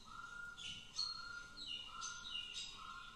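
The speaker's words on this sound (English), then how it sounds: "So that's actually a partridge call." A partridge calls in repeated chirping phrases, roughly one every second, each a sharp tweet with a trailing note, faint against a quiet background hiss.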